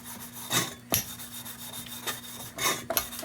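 Close, gritty rasping strokes come from hand sanding the painted brass fount of a 1947 Coleman Major No. 236 lantern, several short back-and-forth rubs at an uneven pace, with no talking.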